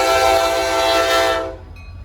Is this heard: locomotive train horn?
yes